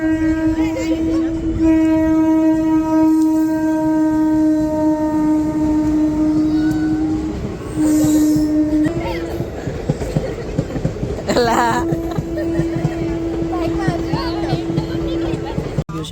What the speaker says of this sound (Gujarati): ટ્રેન આવશે